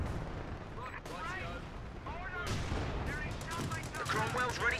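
Infantry gunfire in Company of Heroes 2 on the La Gleize map: repeated rifle and machine-gun bursts, some close and sharp, others more distant, crackling steadily over battle noise.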